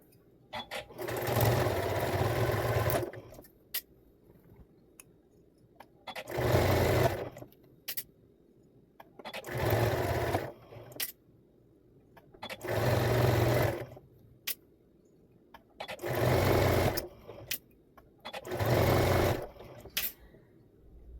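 A sewing machine stitches down the side edge of a plush cuddle kit, running in six steady bursts of a few seconds each, separated by short quiet pauses, close and fairly loud.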